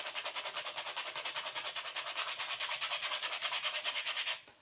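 Close, rapid back-and-forth rubbing on dried gesso over a coloring page, a steady scratchy rhythm of quick strokes for about four seconds before stopping abruptly.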